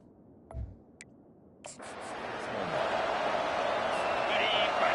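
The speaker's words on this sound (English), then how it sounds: "This crowd bringing the energy and noise early." A crowd at a college football game builds from a few scattered thumps into a steady, rising wash of faint noise, with commentators talking over it.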